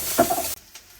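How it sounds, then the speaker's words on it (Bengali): Onions browning lightly in a hot pan for a home-cooked Bangladeshi meal, a short burst of sizzling and stirring up close that cuts off abruptly into near silence. "এই যে পেঁয়াজটা হালকা বাদামি করে ভেজে নিল"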